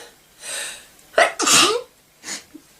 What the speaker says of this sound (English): Moment, ich muss niesen.